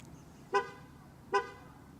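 A parked car's horn gives two short honks about a second apart while someone locates the car in a small parking lot. Both beeps are moderately loud and close, set against faint background noise.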